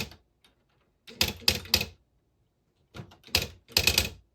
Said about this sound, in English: I'm going to type out a little saying, a little quote